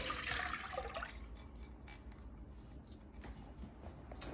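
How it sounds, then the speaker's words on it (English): Four cups of whole milk pour into a medium pan set over medium heat, a soft, steady liquid splash and trickle that runs for a few seconds at low volume, with no talking. "we're taking 4 cups of whole milk and pouring it into the pan"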